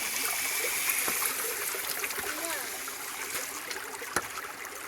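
Water gushes and trickles steadily into a ram pump set below a rock, a continuous near splashing stream with occasional louder splats.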